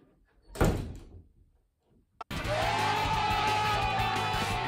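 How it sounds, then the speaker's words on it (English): A door is pushed shut with one loud thunk, preceded by a softer bump, with quiet room tone before and a steady hum afterward. "I didn't close the door properly the first time."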